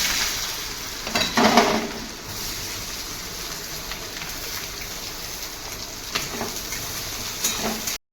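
Chopped onions hit hot oil with popped mustard seeds in a pan, giving a continuous crackling sizzle with a few louder bursts near the start and fainter spits later.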